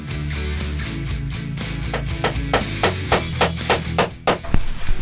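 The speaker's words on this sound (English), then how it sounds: "literally just nailing these sections on" A hammer drives nails into sections of scrap pallet wood for a hall seat tidy, a run of sharp close strikes in an uneven rhythm with no talking.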